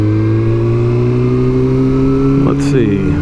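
A sport bike's engine hums steadily while riding a Las Vegas Formula 1 street circuit, wind rushing over it, with a brief rise in pitch near the end.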